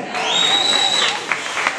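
Congregation clapping at a church service, a steady wash of hand claps with crowd noise through the whole moment and a few sharper claps near the end.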